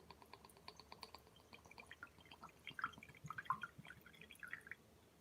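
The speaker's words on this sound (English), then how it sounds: "I'm pouring the Ledaig right now." Peaty Ledaig single malt whisky poured at close range in a quiet room, a soft trickle that breaks into scattered light drips and splashes over several seconds.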